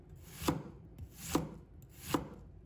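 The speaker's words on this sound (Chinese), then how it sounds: "接下来我们准备半个洋葱，把它切成小块。" Half an onion is chopped into small pieces on a board, three separate knife strikes spaced about evenly apart, close and crisp against a quiet background.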